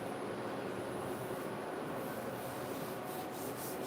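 Rubbing alcohol wiped across an Intel Emerald Rapids CPU produces a steady, close, continuous rubbing and swishing noise with no pauses and no talk.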